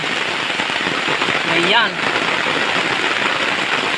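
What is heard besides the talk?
heavy rain during a typhoon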